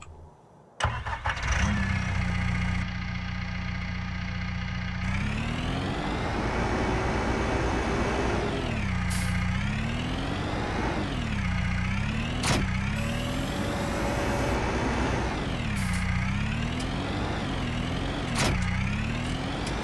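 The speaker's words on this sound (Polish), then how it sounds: "Dobra, no to odpalamy nowy ciągnik." A tractor engine in Farming Simulator 19 cranks and fires up after a second of silence, then runs steadily with repeated rises and falls in revs, loud and close with no talk.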